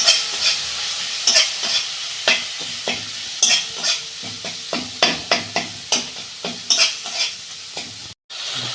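Spice paste with Kashmiri chilli powder and a little water being stir-fried in a pan: a steady sizzle broken by a regular series of sharp spatula scrapes and knocks, close and fairly loud.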